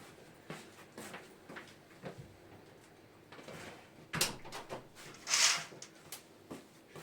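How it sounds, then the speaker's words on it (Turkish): A door closes at home with a sharp, close thud, followed by a few softer knocks and shuffling in an otherwise quiet room. "kapıyı kapatayım da arkadaşlar."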